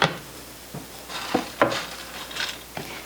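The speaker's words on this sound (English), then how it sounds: "place them onto this baking pan" Chopped pecans drop onto a baking pan in a few scattered, light clattering taps and rattles, close and sparse, with no talking.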